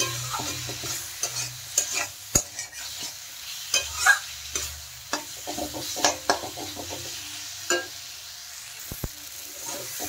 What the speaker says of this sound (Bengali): ভালোভাবে এখন নেড়ে আমি মিশিয়ে দেব সবজির সাথে।